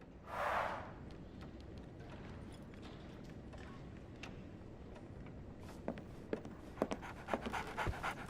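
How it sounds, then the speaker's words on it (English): A dog pants softly with quick, faint breaths, followed by brief scuffles and light taps. The background is quiet, and there is no speech. "So, Barnes has a dog now."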